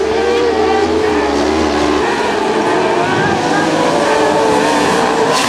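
Kart cross race cars at Mauron in 2014 roar past in a loud, continuous engine drone that rises and falls at close range, with a rough rumble from a passing vehicle at the start.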